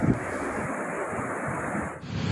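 Sea waves and gusting wind in stormy weather off the coast of South Johor, a steady roar of surf and rushing air that stays loud throughout and dips only briefly near the end.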